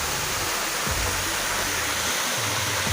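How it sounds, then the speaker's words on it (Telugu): Ksheera waterfall roars close by as a loud, steady rush of falling water that fills the whole clip, with no voices. "క్షీర జలపాతం"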